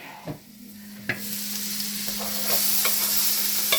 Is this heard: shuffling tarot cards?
no